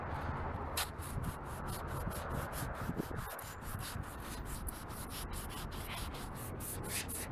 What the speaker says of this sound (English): I'm just gonna sand this down really good and proper.